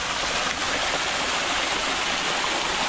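Steady rushing water, running continuously from a hose out of a cooler into a drum beside the sea, a constant close broadband flow with no pauses.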